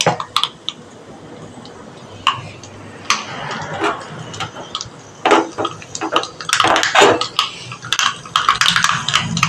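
Mustard seeds splutter in hot coconut oil in a pan, a cooking tempering for a dal and mango curry, with sharp, irregular pops and crackles growing denser toward the end, while a person talks nearby.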